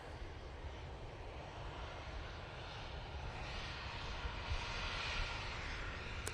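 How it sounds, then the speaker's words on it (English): A British Airways Airbus A319 jet at Manchester Airport makes a steady, broad engine roar that holds at a fairly even level for several seconds and swells slightly toward the end, with no voices. "A319, going off to London, mate."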